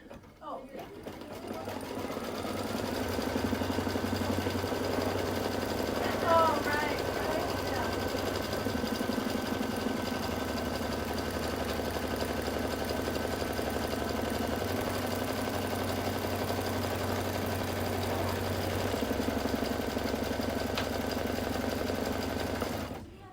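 An embroidery machine stitches a placement line for quilt batting on a mug rug, a steady rapid mechanical whir and needle clatter that runs continuously at close range for most of the stretch before stopping.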